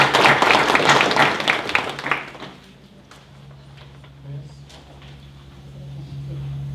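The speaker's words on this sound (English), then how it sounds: "Let's give them a round of applause" Applause at a city council meeting, a burst of loud clapping for about two seconds that fades away, leaving room noise and a low hum.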